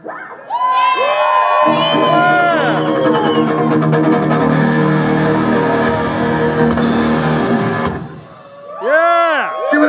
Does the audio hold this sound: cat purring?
no